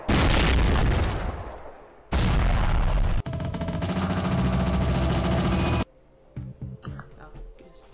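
A sniper shot sets off a chain of explosions in Sniper Assassin 5: loud, sustained blasts roar one after another with abrupt cuts between them, then fade into quieter scattered pops and clatter near the end.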